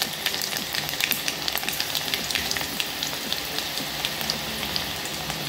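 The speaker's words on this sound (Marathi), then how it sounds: "आता मी या तेलात 1 टीस्पून मोहरी टाकली। त्यानंतर हा लसूण टाकला" Mustard seeds and garlic sizzle steadily in hot oil, a dense crackling hiss with scattered pops that stays loud and even throughout.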